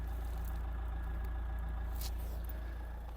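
A 2013 Renault Megane III with a 1.5-litre diesel engine idles steadily, a low, even rumble that holds constant throughout with no revving.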